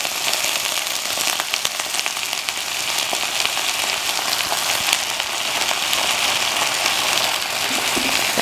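Soy-based sauce for fried chicken sizzling loudly in a hot pan, a dense, continuous crackling hiss that stays steady and close with no voices.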